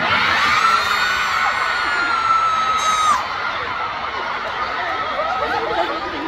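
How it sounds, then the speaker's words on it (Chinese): Live audience at an NCT DREAM showcase in Taipei screaming and cheering, a sustained wall of high shrieks and crowd noise that stays loud for several seconds, with a piercing squeal cutting off midway. "现场的这个尖叫声四起啊"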